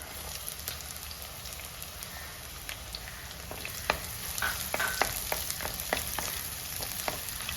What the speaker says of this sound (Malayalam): നമുക്കിതിലേക്ക് അരിഞ്ഞു വെച്ചിരിക്കുന്ന ചെറിയ ഉള്ളി ചേർത്ത് കൊടുക്കാം.